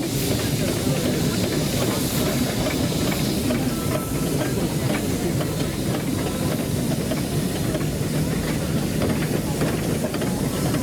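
A steam barrel crane engine, number 28, rolls past at a steam rally, giving a continuous loud hiss and rumble with faint rhythmic clanking throughout, close by and unbroken.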